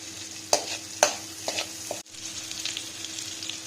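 Whole spices frying and crackling in butter on a low flame, with a few sharp stir clicks of a utensil against the pan over a steady soft sizzle, close and fairly quiet.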